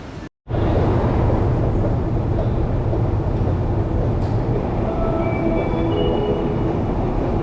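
A metro train rumbles loudly and continuously through an enclosed subway station in Moscow, with faint high wheel squeals rising near the end.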